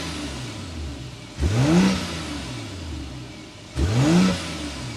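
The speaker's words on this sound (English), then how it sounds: "so you can hear that exhaust note" A BMW X6 xDrive40i engine idles steadily, then revs sharply twice, each rising burst of exhaust note fading back to a low idle.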